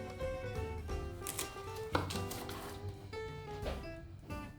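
A knife cuts a vegetable on a board, with several distinct chopping knocks spread unevenly across the stretch, close and clear over a faint tonal background hum, with no talking.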